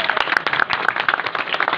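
Crowd applause at a political gathering, a dense, steady patter of many hands clapping together, loud and close throughout the brief burst.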